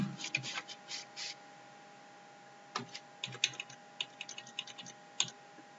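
Someone types Bootstrap web code on a computer keyboard. Quiet, sparse bursts of key clicks come in irregular clusters over a faint steady hum, with no talking.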